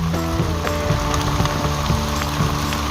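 Heavy rain pouring down on a fishing trip at sea off Banda Aceh, a dense, steady roar of drops drumming on surfaces with a rattling patter throughout.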